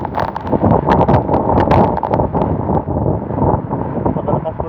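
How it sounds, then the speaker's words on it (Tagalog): Strong wind buffets the microphone in loud, continuous gusts during heavy rain by a river, with a voice speaking faintly underneath. "Napakalakas ko ng hangin, oh."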